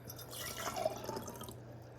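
Eight measured ounces of water are poured, making a soft, faint trickle and gurgle that lasts about a second and a half over a quiet low hum.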